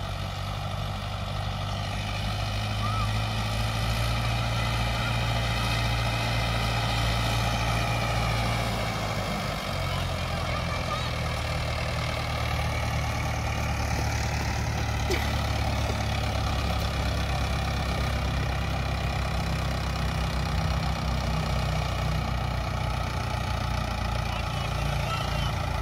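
A tractor engine idles steadily in a village setting, a loud, continuous low rumble that shifts pitch slightly about a third of the way through and then holds even, with no talk over it.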